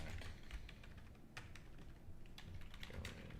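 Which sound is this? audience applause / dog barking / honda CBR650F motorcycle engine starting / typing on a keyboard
typing on a keyboard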